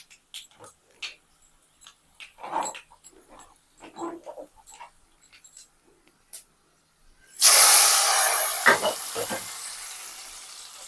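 Hot tadka tempering poured into cooked dal bursts into a loud sizzling hiss that gradually fades, preceded by sparse clinks and small kitchen noises.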